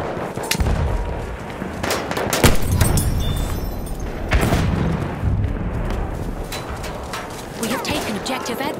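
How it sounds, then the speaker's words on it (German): Battlefield 1 combat at Fort de Vaux: a grenade blast and bursts of rifle and machine-gun fire, with loud booming impacts and sharp rapid shots, under shouted soldier voices. "Ich werfe eine Granate!"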